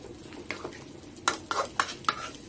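A spoon scrapes and clanks through papaya and chicken curry with fried potatoes in a metal pot, a few distinct close stirring knocks and scrapes over a low kitchen hiss, with no talking.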